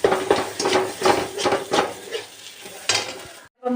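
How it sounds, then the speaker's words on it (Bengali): Peeled boiled eggs fry in a pan, with steady oil sizzling broken by repeated scraping and stirring strokes of a utensil against the pan, close and fairly loud, ending abruptly. "ডিম সিদ্ধ করে ডিমগুলো ছাড়িয়ে ভেজে নিচ্ছি"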